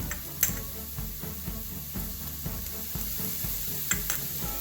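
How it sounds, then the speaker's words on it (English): Ginger and garlic sauté with onions in a hot pan, giving a steady bed of sizzling and frying crackle punctuated by regular stirring scrapes, close up with no talking. "we are going to saute it till the raw smell goes out"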